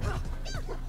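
A cartoon dog barks in a Super Smash Bros. video game match: a couple of short, bright yips over game noise, one brief burst.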